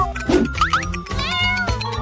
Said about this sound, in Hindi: यह प्यारी बिल्ली।